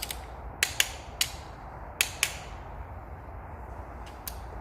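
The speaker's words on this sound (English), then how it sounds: "just the last couple of checks just to make sure that all our torque settings are right there" A torque wrench clicks sharply on a Mazda 13B rotary engine block, several isolated close clicks, some paired, separated by quiet pauses.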